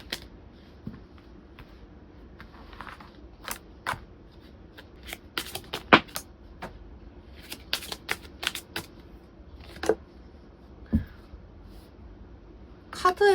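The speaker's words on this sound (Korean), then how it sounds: "연애운에 관한 조언 카드만 뽑아보도록 할게요" Tarot cards are shuffled and drawn in a quiet room: soft, continuous riffling with sharp slaps and flicks as cards are split and laid down, close and fairly loud against near silence.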